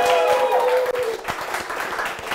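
A studio audience at a quiz show claps for the contestants in a short, brisk burst of many hands, with a voice trailing off briefly at the start.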